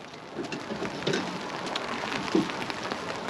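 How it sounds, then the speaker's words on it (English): Heavy rain comes down hard outdoors during a Mazda Miata ND coilover installation, a dense, steady hiss of pouring water with scattered louder drops and no talk. "Oh boys, this is the rain."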